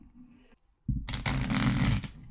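A new, slick deck of playing cards is riffle shuffled up close, with a brief soft rustle and a pause, then a loud, dense burst of flicking card edges that stops abruptly.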